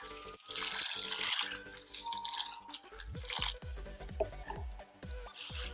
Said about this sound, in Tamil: தண்ணி சேர்த்து நல்லா பொரியை அலசி எடுத்துக்கலாம்.